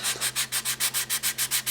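A sanding sponge rubs back and forth over a 1/48 scale Accurate Miniatures B-25B plastic model kit. About a dozen quick, even, scratchy strokes repeat in steady rhythm, close and moderately quiet.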